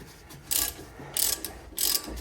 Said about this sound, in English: So I'm just going to get these tightened up now.